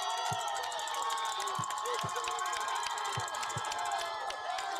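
Crowd at a high school league championship football game cheers and shouts in a constant dense roar, with rhythmic thumping like stomping or drumming beneath the noise.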